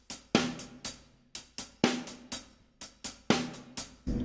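Shuffle groove on a drum kit with hi-hat, played slowly with little accent variation: repeated kick and snare-like hits in a steady lilting pattern, close and clear with no voices.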